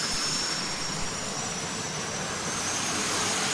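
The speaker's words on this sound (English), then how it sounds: "Twin T53 L11 turbines, pure pressure." Twin T53-L11 turbine engines power a tractor at a pulling event at Wisner Fairgrounds in Nebraska, producing a loud, sustained jet-like roar with a thin high whine running steadily through it.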